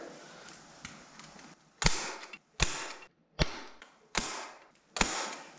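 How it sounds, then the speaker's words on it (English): A staple gun driving staples into fabric stretched over an RV valance: five sharp, loud snapping shots about a second apart, each with a short rattling tail, preceded by soft handling noise. "We're going to staple it down in this corner."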